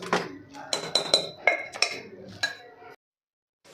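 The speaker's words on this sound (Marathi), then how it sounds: "आता तेल सुटेपर्यंत आपण हे परतून घेऊ।" Raw masala paste and chicken being sautéed in a pot: a run of close metal clinks and scrapes of a spoon against the vessel, fairly quiet, ending in a short silence.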